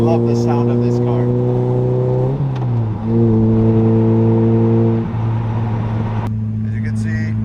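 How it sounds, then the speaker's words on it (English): A car with a Toyota 2ZZ engine drones loudly from inside at steady revs, dipping briefly between gears, the engine's strong harmonic hum holding close and constant with a voice speaking near the end. "I love the sound of this car."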